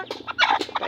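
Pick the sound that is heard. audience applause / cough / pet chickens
pet chickens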